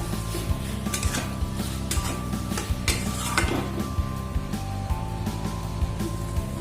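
Chilli paneer stirred and tossed in a pan over a low gas flame, with a spoon repeatedly scraping and clinking against the metal in an irregular rhythm under a steady, faint sizzle; no talking.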